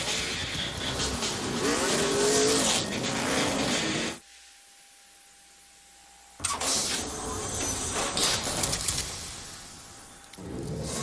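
Roaring engines of trucks racing in a 2008 NASCAR truck race, heard in two loud stretches split by a sudden quiet gap of about two seconds.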